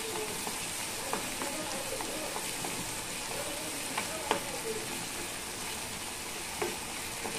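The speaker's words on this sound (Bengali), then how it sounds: "মশলাটাকে একটু ভেজে নিব।" Ginger-garlic spice paste frying in a pan for a fish curry cooked with pointed gourd, a steady dense sizzle with a few faint clinks of stirring, constant and close throughout.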